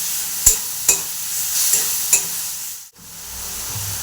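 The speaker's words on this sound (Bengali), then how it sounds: "মশলাটা কষে নিচ্ছি।" Spice paste with tomato sizzles steadily in a pan for a fish curry, with several sharp spoon scrapes as it is stirred and a brief drop in the sizzle near the end; no one talks.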